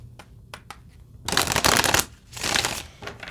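Tarot cards being shuffled, two loud bursts of riffling and sliding with a brief pause between, after a few faint taps.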